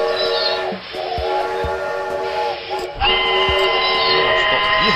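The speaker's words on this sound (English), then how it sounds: "Trains on this one, apparently." Trains in the video game Paper Train rumble past with long sustained whistle-like horn tones, loud and continuous, with a brief dip midway before the tone returns.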